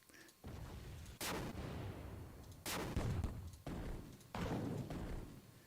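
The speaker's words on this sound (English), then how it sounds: "Let's go for explosion medium 1." Medium explosion sound effects from a game development sound library play as four booming blasts at irregular intervals, each a sudden loud burst trailing into a rumbling decay.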